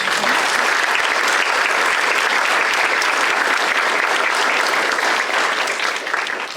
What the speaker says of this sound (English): let's give Noah another big round of applause.